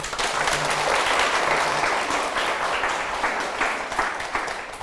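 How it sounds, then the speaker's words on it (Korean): Audience applause at a talk concert at Hannam University, steady and dense for several seconds with no voices over it. "박수로 청해 듣겠습니다"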